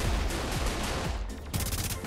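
Gunfire in Saints Row IV, a rapid, steady volley of loud shots that runs for about two seconds, with a brief dip near the end before it resumes.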